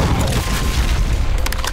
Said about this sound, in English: You might wanna get some grenade in there